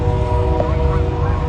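Canada geese honk as they come in to land on water during migration, calls rising over a steady dense rumble of wind and flock noise.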